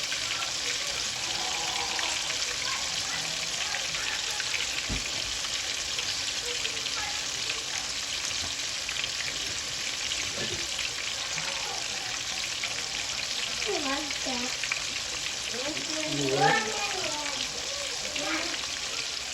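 Food frying in hot grease gives a steady, dense sizzle and crackle throughout, with faint voices in the background.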